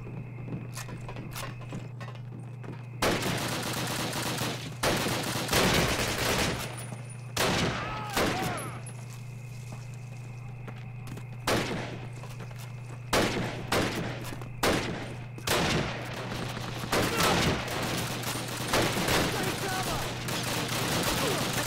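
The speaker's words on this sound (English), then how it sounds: "one MG42 in front of us, we're all screwed" MG42 machine gun fire in the WWE-free World War II shooter Call of Duty: United Offensive, repeated sharp bursts of rapid shots, some near and loud, others in quick clusters, over a constant low battlefield hum.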